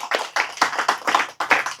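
Hand clapping from an audience at a religious study gathering, about seven distinct, close claps in a quick uneven rhythm, loud and dry with short gaps between them.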